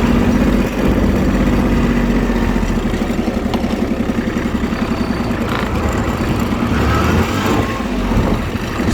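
A mini tractor engine idles steadily and close by, a continuous low throb with a fast buzzing rattle from a loose mirror running through it, no talk.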